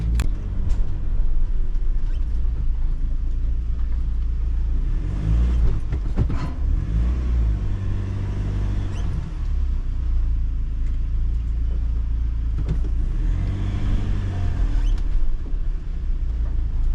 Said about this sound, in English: So just going to get on the weighbridge now.